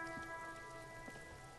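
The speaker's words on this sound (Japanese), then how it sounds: "あれ、雨降ってきた。" Steady rain falls in the Disco Elysium game, a dense even patter with soft drops, continuous and moderately close throughout, with a faint held musical tone above it and no voices.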